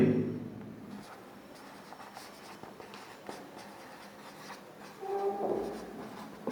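Pen or marker strokes write a math expression during a seventh-grade algebra lecture, giving soft, scratchy bursts over a quiet room hum with a few brief pauses between strokes.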